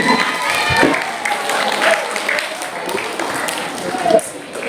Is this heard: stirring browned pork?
no